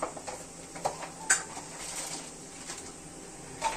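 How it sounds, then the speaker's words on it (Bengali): Dried red chillies and bay leaves fry in a pan for an egg curry, giving a soft, steady sizzle with a few light metallic clinks of a utensil against the pan; no one speaks. "শুকনো লঙ্কা দিয়ে দিল, ফ্রাই হচ্ছে"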